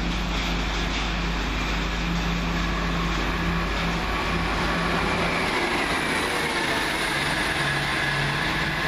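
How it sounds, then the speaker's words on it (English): An Arriva Trains Wales Class 175 diesel unit, 175007, runs through Heaton Chapel on a Manchester Piccadilly to Carmarthen service, its deep rumble and wheel noise loud and steady throughout. "Now coming down for Arriva Trains Wales should be the return of 175007, working 1 Victor 40 from Manchester Piccadilly to Carmarthen"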